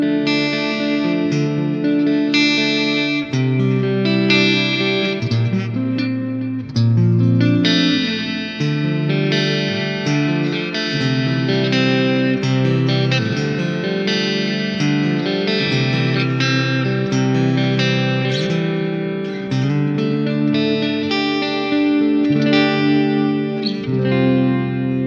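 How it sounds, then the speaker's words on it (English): Clean electric guitar tone through the Neural DSP Archetype Nolly X plugin's clean amp with a little gain, pickup selector in position 4 toward the neck, playing sustained chords and melodic lines continuously with a touch of chorus and reverb, alone without talking. "This is what I've come up with for my clean tone"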